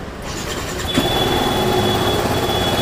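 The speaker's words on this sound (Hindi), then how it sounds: "तो बाइक स्टार्ट कर दिया मैंने" A 2024 TVS Apache RTR 310 motorcycle engine cranks and fires about a second in, then settles into a steady, close idle with a constant hum and a thin whine over the exhaust.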